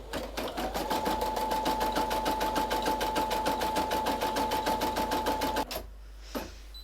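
An embroidery machine stitches a design in a fast, steady needle rhythm with a constant motor hum, then stops abruptly, followed by a quiet pause and a single soft click.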